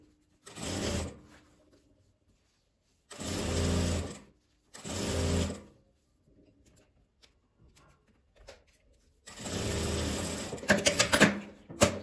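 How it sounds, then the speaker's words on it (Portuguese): Sewing machine stitching another seam on a fabric garment, running in short bursts of rapid, close mechanical whirring separated by quiet pauses, with a longer final run near the end. "Vou passar outra costura."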